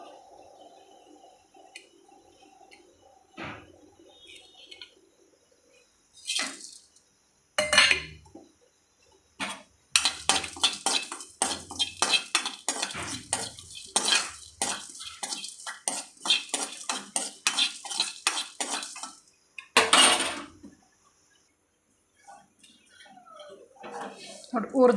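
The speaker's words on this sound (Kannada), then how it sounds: "ಇವಾಗ ಜೀರಿಗೆ, ಮೆಣಸು ಇದೆರಡು ಹುರ್ಕೊಳ್ಳೋಣ." Cumin and peppercorns dry-roast in a pan for horse gram sambar, with quick rhythmic scraping and rattling of a spoon stirring the seeds in close bursts, separated by quieter gaps and a few brief clinks.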